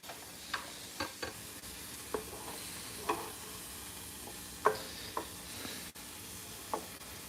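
Onions sizzle in a pan with a soft, steady crackle and hiss, close and quiet, punctuated by scattered pops and the occasional scrape of stirring, with no talking.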